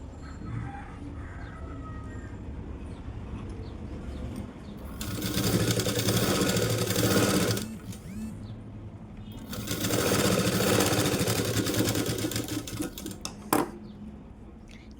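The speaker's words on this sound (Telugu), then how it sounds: "నేను ఇంకొక స్టిచ్ చేసేస్తున్నాను." A sewing machine stitches piping onto a puff sleeve in two steady, rattling runs of a few seconds each, close by, with quieter room sound in between.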